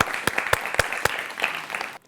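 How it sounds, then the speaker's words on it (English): Applause from a quiz show audience, a brisk burst of clapping with several sharp louder claps standing out, ending abruptly into near silence. "So let's have a huge round of applause from Siddharth and Shraddhesh."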